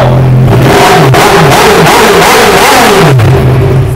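A 2017 Kawasaki Z1000 ABS motorcycle with an aftermarket exhaust revs hard close by, its loud, rough engine note climbing and dropping through several quick throttle blips over a constant raspy roar.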